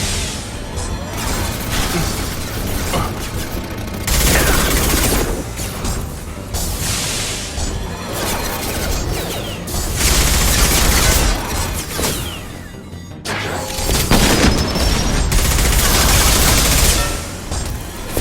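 Sustained bursts of gunfire from the video game Mass Effect 2 come in loud, dense volleys, with rapid automatic shots and crashes repeating across the clip.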